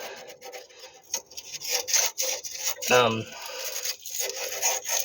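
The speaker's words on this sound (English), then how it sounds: "Just give it a little tickle up with some sandpaper." Sandpaper rubs rust off a brake pipe nut on a Hillman Super Minx during a rear brake flexi hose change. The rasping strokes come close up and a little uneven, with a brief metallic clink partway through.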